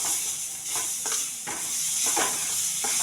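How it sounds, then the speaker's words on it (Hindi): Sliced tomatoes frying for a dhaba-style paneer do pyaza, giving a soft, continuous sizzle and hiss with occasional stirring scrapes, close but fairly quiet. "इसको भी हम अच्छे से भून लेंगे।"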